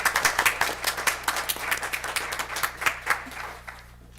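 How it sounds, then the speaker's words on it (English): Scattered round of applause at a school board meeting, a small group clapping in quick distinct claps that taper off after about three seconds into quiet. "can we all give Ms. Arndorfer a round of applause, please?"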